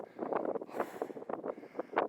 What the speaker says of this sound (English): The wind's nice, but it's a warm one.